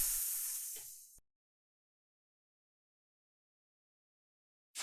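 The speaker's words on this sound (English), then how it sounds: "The green snake goes hiss." Hissing snake sound effect, a loud breathy hiss lasting about a second that fades out, followed by silence and a short burst of another sound at the very end.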